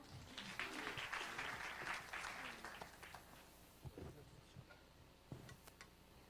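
Audience applause at a startup presentation forum in Korea, welcoming a company founder to the stage; a burst of clapping that fades after about three seconds, followed by a few scattered isolated claps.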